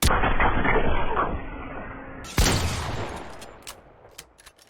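Fortnite SMG gunfire in a rapid burst, then a sharp pump shotgun blast after the weapon swap, followed by a few lighter clicks and thuds, loud and without talking.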